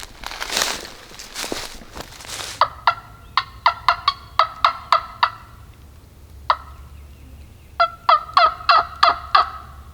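Wild turkeys gobble in the Alabama woods, several loud rattling gobbles in quick series heard fairly close, with a soft rustle at the start and a calm, quiet background between calls.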